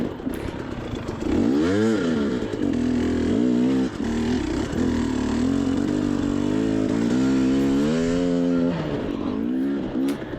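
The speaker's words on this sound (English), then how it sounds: "my weapon here that I'm riding is a 2022 250 XCW, not the 300" A 2022 KTM 250 XCW two-stroke enduro motorcycle revs and bogs through rough terrain on a hard enduro race course, its engine rising and falling in pitch, close and loud, with no talk.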